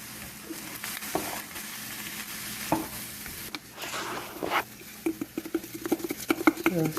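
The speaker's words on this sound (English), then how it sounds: "Now, you just gotta stir the seasoning in." Garlic powder seasoning being stirred into food in a pan, with soft scraping and patter under a light sizzle that grows into quicker, sharper stirring strokes toward the end, close by.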